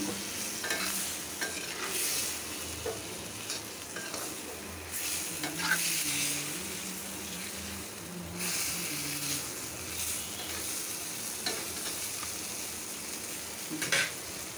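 Meat frying in a pan at home for a simple lunch, sizzling steadily while a utensil stirs it with scraping, clattering strokes; continuous close hiss with no talking.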